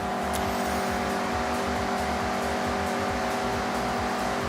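A Mazda MX-5 engine in Forza Horizon runs hard and loud, a steady pulsing growl with rhythmic low throbs and no talking over it.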